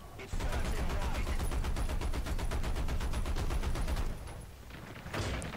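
Rapid regular bursts of gunfire from a tank's weapons in War Thunder, an American M10 tank destroyer in battle, pounding loud and steady for about four seconds before easing off, with faint game noise after.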